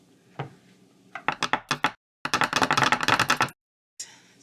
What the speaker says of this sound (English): All right, let's get this chopped up.